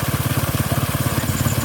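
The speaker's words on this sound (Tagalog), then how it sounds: "Ayan ang tubig sobrang lakas kasi sobrang lakas din ng makina" A water pump engine runs at high power, its steady pulsing chug close and loud with no speech over it.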